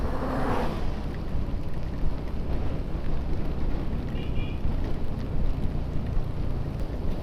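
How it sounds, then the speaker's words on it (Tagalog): Heavy rain pours down steadily during a motorcycle ride, a dense, constant roar of spray and wind noise that never lets up, with the engine's low rumble buried beneath it. "Grabe, lumalakas talaga yung ulan, oh."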